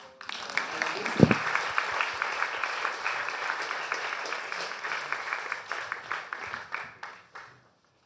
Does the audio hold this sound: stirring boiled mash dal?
no